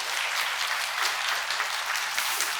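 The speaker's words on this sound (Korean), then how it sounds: "주일날 박수 받아보기도 처음입니다" A congregation claps at the close of a Sunday Bible lecture, a brisk, uneven patter of many hands that stays fairly close and lively throughout, alone without talk.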